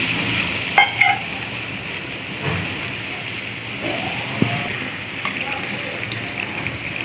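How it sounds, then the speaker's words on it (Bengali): A steady, loud sizzle of spice paste frying in a pan, with occasional stirring clicks and scrapes on top. "মশলাটা ভালো করে ভাজা হয়েছে না একটু পানি দিয়ে দিলাম"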